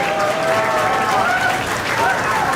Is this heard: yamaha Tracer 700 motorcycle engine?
no